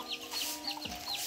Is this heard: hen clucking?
yes